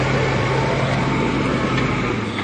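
Municipal dump truck engine at a construction site in Juazeirinho, Brazil, a loud, steady diesel rumble with constant broadband noise and no pauses.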